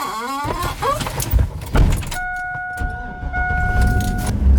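A pickup truck sets off for a drive, a door thunking shut and the engine starting, then a steady close engine rumble with a sustained electronic chime.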